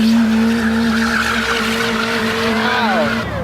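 Car tires squealing loudly at a car meet where a Miata was in action, a sustained close screech with a roaring engine beneath it, the pitch sliding and wavering near the end.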